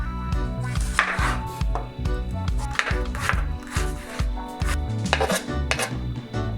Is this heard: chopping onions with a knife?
yes